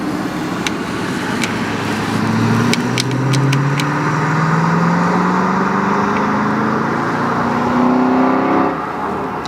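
An Aston Martin supercar accelerates along the Curborough sprint course, its engine note climbing steadily through rising revs in two long pulls, loud and fairly close, with faint clicks in the background and no talk.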